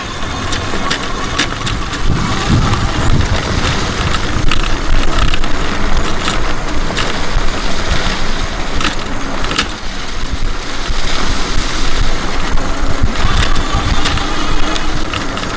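A Happy Run G50 Pro 2000 watt electric bike rides a gravel and dirt road, producing continuous loud rumbling tyre and wind noise with a steady, even texture and no speech.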